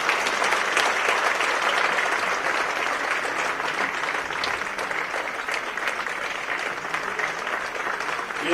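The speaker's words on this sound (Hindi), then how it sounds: "नड्डा जी के स्वागत में जोरदार तालियां होनी चाहिए" Sustained loud clapping from a large crowd in the Birla Auditorium, dense and even for several seconds, without any voices standing out.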